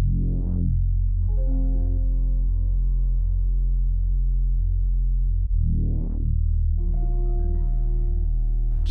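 Synthesized ambient melody with long sustained tones, heavy reverb and delay tails, swelling and pulsing in two loud, slow phrases with no speech.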